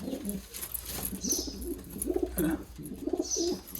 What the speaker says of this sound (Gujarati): તો દોસ્તો આ એક કબૂતર છે